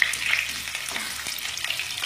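Potatoes fry in oil over a high flame in a home kitchen, giving a steady close sizzle with light crackle throughout, alone and without talk.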